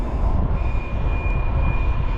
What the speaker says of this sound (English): And here comes the windy train.